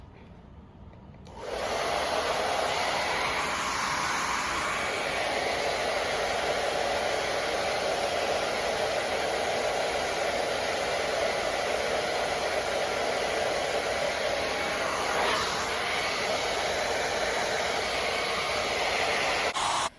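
Hair dryer fitted with a diffuser running at medium speed and medium heat, switching on after a short quiet start and then blowing as a steady, close, even whoosh for the rest of the clip.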